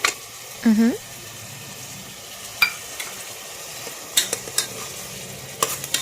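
Ginger-garlic paste fries in oil with a low, quiet sizzle while a spoon stirs and taps against the pan in sporadic scrapes and clinks; a brief vocal sound rises early on.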